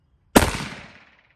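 A single sharp gunshot from a PSA rifle with a threaded barrel firing Fiocchi ammunition at a range, loud and close, with a short ringing decay and no talking.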